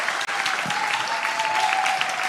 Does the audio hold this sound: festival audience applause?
yes